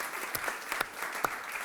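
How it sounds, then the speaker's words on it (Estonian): Audience applause fills the whole stretch with steady, dense clapping at moderate volume and a few sharper claps standing out, and no voices on top. "Teeme suure aplausi kõigile Arapi fännidele."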